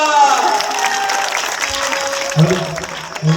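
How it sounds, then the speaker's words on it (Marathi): An audience at a Ram Katha devotional storytelling gathering claps loudly in a dense burst of applause, with a voice speaking briefly over it near the end. "जोरदार टाळी वाजवा"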